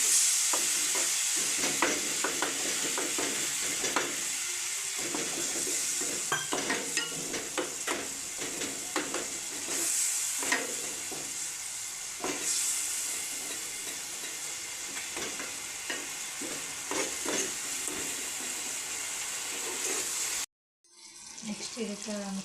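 Cashew masala paste bubbles and sizzles in a pan after water is added, with a steady fry hiss and irregular scraping stirs close by, before a sudden cut to a brief quieter sizzle.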